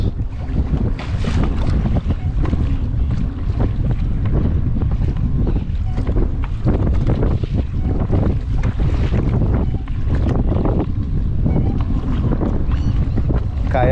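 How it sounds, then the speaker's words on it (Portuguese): Loud, gusty wind buffets the microphone over choppy river water in the Pantanal, with splashing and slapping waves hitting a kayak throughout. "Caiaque de frente para as ondas."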